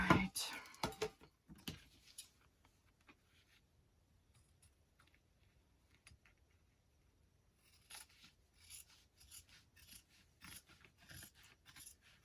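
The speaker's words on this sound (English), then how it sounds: "The only part of my scissors that want to work are the first couple inches of this pair of scissors now." Scissors cut paper while a baby book is assembled, giving close, crisp rasping snips in short bursts at the start and again near the end, with quiet gaps between.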